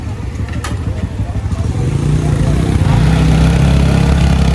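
Motorcycles of arriving bikers rumble on a mountain pipeline track, their engine drone building louder and closer, with people talking over it.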